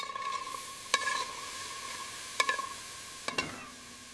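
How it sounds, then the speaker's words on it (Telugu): Corn grain mixture stirred in a pressure cooker for corn pongal: three distinct metallic scrapes of a ladle against the pot, spaced apart over a faint low hiss. "కుక్కర్లో వేసుకున్న మిశ్రమాన్ని బాగా కలుపుకోవాలి."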